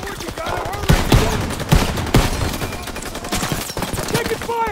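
Dense automatic gunfire and sharp single shots crackle in bursts during a Call of Duty WW2 battle, loud and continuous, with a voice shouting briefly over the din.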